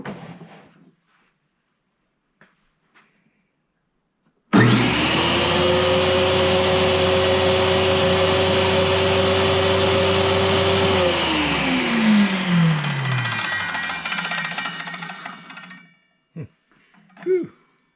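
An iQ228 Cyclone dry-cut tile saw starts abruptly and runs loud with a steady high whine for several seconds, then spins down with a falling pitch as the blade slows, leaving quiet afterward.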